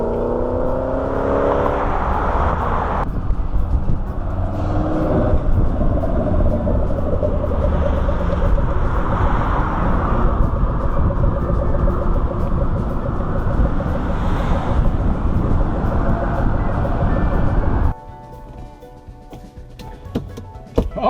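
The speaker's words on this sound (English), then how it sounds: "Badass sounding car, ain't it?" A Ford Mustang GT500 with Baer six-piston brakes rumbles nearby, its engine droning and rising through revs with a whirring tone, then dropping abruptly to a quieter idle near the end.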